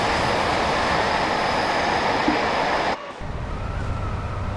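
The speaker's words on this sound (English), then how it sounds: "Oh, there goes a tanker train." A tanker train passes on a main line heard from a Class 86 locomotive cab in a train simulator, a steady loud rumbling roar that cuts off abruptly, leaving the quieter cab hum.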